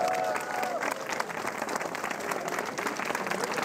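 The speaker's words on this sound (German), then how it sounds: "Ich finde, Herr Kiezler verdient einen großen Applaus." A village crowd in the mountain village of Lüdersen applauds a local man, a steady mass of clapping of moderate loudness heard from a short distance, with a faint voice briefly present near the start.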